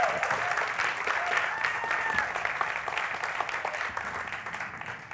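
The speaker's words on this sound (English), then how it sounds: "Can you give applause?" Audience applause at a FameLab 2018 science talk in Korea, a steady wash of many hands clapping at moderate volume that fades gradually toward the end, with faint talk underneath.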